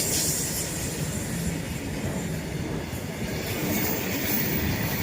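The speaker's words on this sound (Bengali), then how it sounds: "তো দেখিয়ে দিলাম তোমাদের ট্রেন" A train passes on a railway line in Andhra Pradesh, a constant broad rumble and rolling wheel noise with faint squeals, steady and fairly loud from start to finish with no voices.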